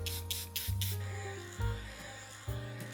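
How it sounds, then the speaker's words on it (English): A makeup setting spray gives three quick airy spritzes close to the mic in the first second, followed by a few softer hisses, all over quiet background music. "now I want to go back in with my setting spray one last time with this one."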